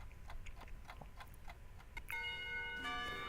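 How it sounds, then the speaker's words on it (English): A bell rings out in the Katawa Shoujo video game, its sustained tones starting partway through after a stretch of soft, regular ticking, and continuing steadily to the end. "When the bell finally sounds"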